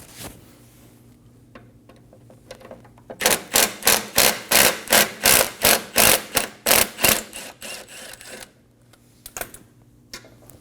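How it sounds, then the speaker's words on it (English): A ratchet drives a 10mm socket, loosening the AC line bolts on the condenser of a 2008-2015 Scion xB. About a dozen quick, evenly spaced clicks come close and clear in one run, with scattered metallic taps before and after. "Using a 10mm socket, we're going to remove the bolts for the AC lines to the condenser."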